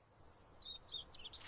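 Small birds in a garden chirp in a few quick, high, thin bursts, faint and somewhat distant over soft background noise.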